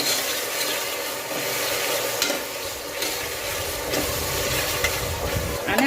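Tomatoes and onions sautéing with salt in a pan for soya chunk pulao give a steady, close sizzling hiss, with stirring scrapes and a few louder clatters near the end.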